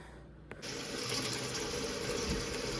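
Tap water gushes steadily into a large stock pot for chicken stock, a sudden onset after a brief click, then a continuous close, full rushing stream that holds level to the end.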